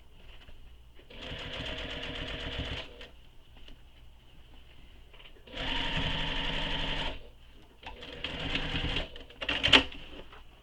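A sewing machine stitches a fabric backpack seam in three bursts of fast, steady mechanical chatter, heard up close with short quiet pauses between runs.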